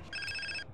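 Cell phone ringing in the GTA San Andreas video game: a bright electronic ringtone with stacked steady tones, one short burst at even loudness, heard alone.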